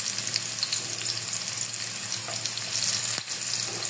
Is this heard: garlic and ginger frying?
yes